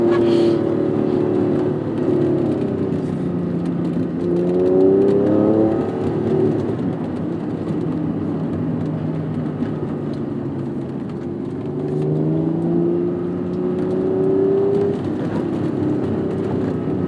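A 1992 Acura NSX engine pulls hard up a Malibu canyon road, its pitch climbing, dropping at each shift and climbing again as it runs through the gears, steady and close.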